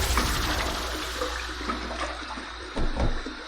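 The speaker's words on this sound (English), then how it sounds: "So let's wet the face and let's get to the shave." Tap water running into a sink to wet the face before a safety razor shave, a loud, continuous gushing splash with a few brief sloshes near the end.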